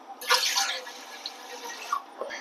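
Water runs and splashes steadily into a cooking pan, a broad hissing pour with small drips and clinks, fairly close.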